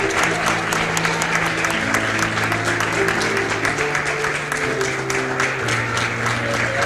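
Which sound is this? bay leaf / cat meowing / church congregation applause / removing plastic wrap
church congregation applause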